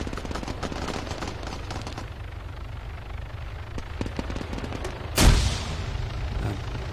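Scattered gunfire in the military shooter Arma, moderately loud shots popping at irregular intervals before a sharp, heavy blast near the end that trails into ongoing rumbling fire.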